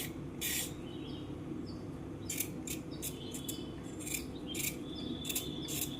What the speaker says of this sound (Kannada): ಈಗ ಕ್ಯಾರೆಟ್ದ ಸಿಪ್ಪೆ ತಕೊಳ್ಳೋಣ.